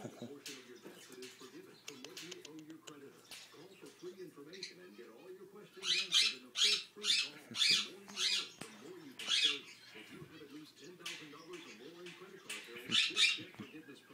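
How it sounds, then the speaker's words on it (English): A cockatoo perched on a person's shoulder lets out a run of loud, rasping squawks in quick bursts, then one more later, while someone talks softly throughout. "Got a cockatoo on my shoulder."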